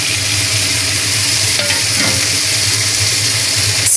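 Garlic and onions frying in olive oil in a pan, a loud steady sizzle with occasional stirring scrapes and a clink at the end, no talking.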